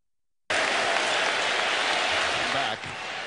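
A basketball arena crowd at the 2019 NBA Finals Game 5 between Golden State and Toronto bursts into sustained applause for the injured Kevin Durant, a sudden, loud, dense roar that holds steady and then eases slightly.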